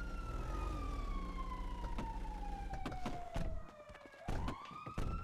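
A wailing ambulance siren in a video game sweeps steadily downward then rises again, loud and continuous, with clattering impacts and engine noise mixed in.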